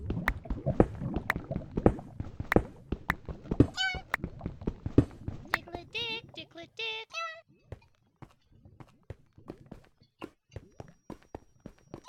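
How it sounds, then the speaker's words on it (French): Cat meowing in the Minecraft Pixelmon video game: a few short, rising mews in quick succession mid-clip, set among steady clip-clop footstep sounds, with a voice talking at times. "celui qui fait du bruit de chat, le bruit de chat là, je vais le défoncer."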